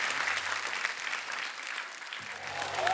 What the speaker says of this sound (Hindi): अरविंदर पाजी के लिए जोरदार तालियां हो ज